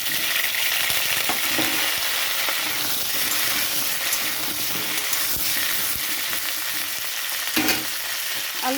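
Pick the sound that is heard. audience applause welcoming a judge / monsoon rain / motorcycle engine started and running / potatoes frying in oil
potatoes frying in oil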